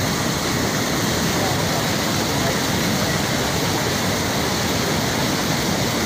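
Floodwater rushes over a bridge crossing in Karamoja, Uganda, giving a loud, constant roaring wash of water with no breaks, with voices talking underneath.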